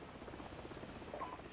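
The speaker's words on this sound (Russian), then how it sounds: "Вражеские вертолеты." Enemy helicopters in Call of Duty: Modern Warfare give off a faint, steady rotor thrum with a low pulsing beat, distant and unbroken, with no speech.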